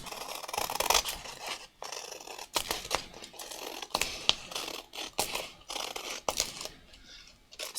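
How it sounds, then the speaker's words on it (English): Excess adhesive sheet being trimmed with scissors at a craft mat, with repeated crisp snips and crinkly paper rustles in an uneven rhythm, close and fairly loud. "I'm going to trim off the excess adhesive"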